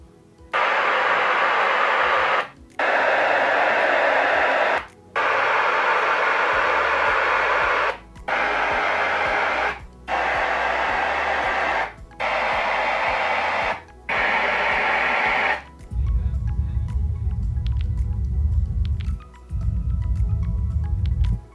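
Pink-noise level calibration bursts from an Onkyo receiver play through floorstanding speakers in a room, about seven loud, steady hiss segments of roughly two seconds each with short gaps, then a low rumbling tone.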